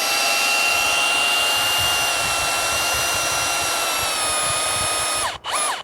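A Hilti cordless power tool drives screws at maximum torque, giving a loud, close, steady high-pitched motor whine that runs continuously and briefly bogs down near the end.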